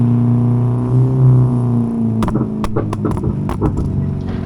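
A Ford Figo with a new muffler downshifts close by, a low steady engine drone that breaks into a run of sharp pops and crackles from the exhaust.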